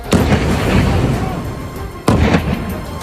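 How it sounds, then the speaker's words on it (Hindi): Two loud, heavy booming blasts about two seconds apart, each followed by a long rumbling roar that fills the space. "दूसरा बम गिरा और धमाका हुआ और फिर एक और बम गिरा।"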